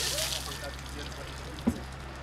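Cold water splashing down over a firefighter during a fire brigade cold water challenge, a brief pouring slosh with a sharp splatter near the end, with voices chattering underneath.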